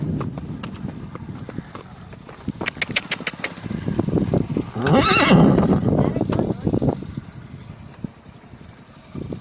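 A mare whinnies loudly partway through, against steady hoof clopping along the way to a farm field, with people talking and a faint engine idling in the background.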